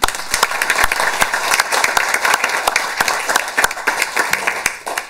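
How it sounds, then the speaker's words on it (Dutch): Sustained, dense applause fills a municipal council meeting hall in Ommen, with many hands clapping steadily at close range and no speech over it, before tapering off at the end. "Een daarbij behorend applaus."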